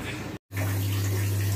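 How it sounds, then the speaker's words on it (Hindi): A Pureit water purifier running at home: a steady, close flow of water with a low motor hum underneath that starts up after a brief silence and keeps going, no talking. "तो मैंने अभी प्योरिट चलाया है तो उसी का साउंड आ रहा है।"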